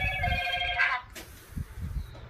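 A telephone bell rings loudly for about a second, then stops, followed by low, muffled voices and room noise.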